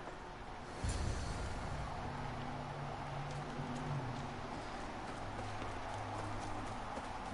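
Steady clip-clop of horse hooves trotting on ground in the video game Assassin's Creed Odyssey, continuous and moderately close, with soft background ambience and no talking.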